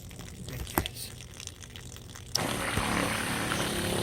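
Water runs from the faucet of a garden rainwater collection setup fed by a portable water pump, a steady outdoor rush that grows louder and fuller partway through, with no talking.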